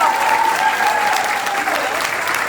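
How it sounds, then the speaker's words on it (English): Audience applause at a fundraising event, a loud, dense wash of clapping sustained throughout with a faint tone ringing briefly near the start. "Give him a round of applause"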